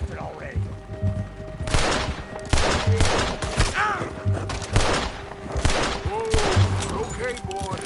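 Gunfire crackles in a dense fusillade from a western-style standoff with United States Army men, bursts of shots thumping out repeatedly under overlapping shouting voices and commotion.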